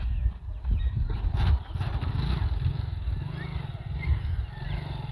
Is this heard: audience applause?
no